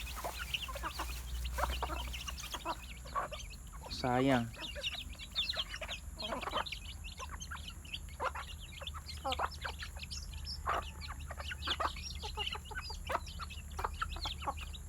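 Backyard chickens cluck and call in short, irregular bursts at moderate distance, with a rooster-like call partway through, while a person talks over a steady low background hum.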